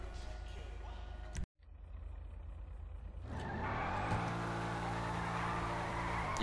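A Mercedes car in Grand Theft Auto Online driving off, a steady engine drone that briefly cuts out and then rises into a louder, fuller acceleration roar.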